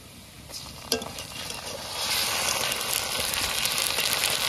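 Onions or spices frying in a pan for khichuri and kosha mangsho, a steady close sizzle that swells louder after a sharp clink of a spoon partway through, with stirring scrapes and no talking.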